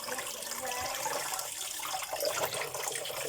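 Vegetables being rinsed under a steady stream of running tap water in a sink, a continuous splashing wash that stays at an even level throughout without talk.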